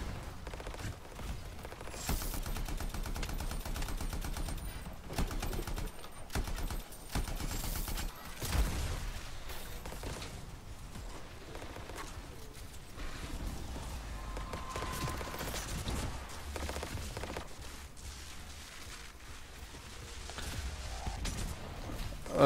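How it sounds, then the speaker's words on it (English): Dense, continuous gunfire and explosions from the video game Anthem fill the whole stretch, with rapid bursts and heavy booms that vary in loudness but never let up. "There's lots of explosions and things going on,"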